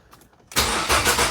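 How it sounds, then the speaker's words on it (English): A car engine cranks and catches abruptly after a quiet moment, then settles into a loud, steady idle close by; the car is being checked for a P0171 lean-condition fault. "Start the car."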